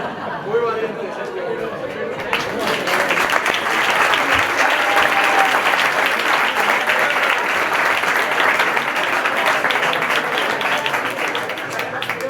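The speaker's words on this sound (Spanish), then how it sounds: "yo ese aplauso te dedico a ti, no al suegro" A live audience in a political talk setting breaks into sustained applause, the clapping swelling after about two seconds and holding steady, with crowd chatter mixed in.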